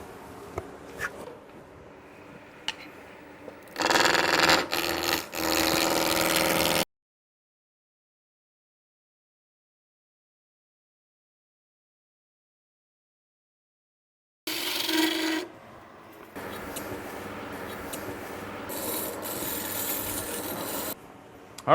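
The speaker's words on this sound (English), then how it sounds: "now I'm going to take my spindle roughing out tool and just create a straight taper between the two" A spindle roughing gouge cuts a straight taper on a wooden cabinet leg spinning on a lathe, giving loud, steady rasping bursts with a long silent gap between passes and no voices.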